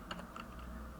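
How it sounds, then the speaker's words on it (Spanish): Keystrokes tapping out dates on a computer's numeric keypad, a few quick clicks in short bursts, close and fairly quiet with no talk. "Aquí pues es importante utilizar el teclado numérico y con el guión ir separando"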